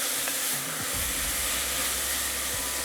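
Onions sweat in a pan for vegetable stock, giving a steady, broad sizzling hiss that stays close and constant, with a soft low knock or two of the pan and no talking.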